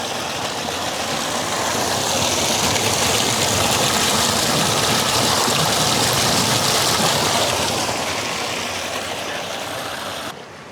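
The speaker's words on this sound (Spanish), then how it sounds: "A la fuente de los Tres Chorros, este agua es magnífica." Spring water pours steadily from the Tres Chorros fountain in Benamahoma, a loud, continuous rushing splash that swells and then eases slightly toward the end.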